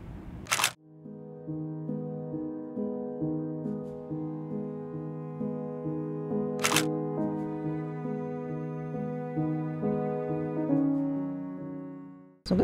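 A film camera loaded with Ilford Delta 400 or Rollei 400 fires its shutter with a sharp, close click, then fires a second time several seconds later. Sustained music plays between the two shots.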